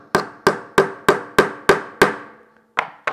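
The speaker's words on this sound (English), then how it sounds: "hold this together with my offhand and tack in that first nail" A hammer tacks a nail into wood while a lap desk is assembled, with seven sharp, evenly spaced strikes ringing close and loud, then a pause and one more hit.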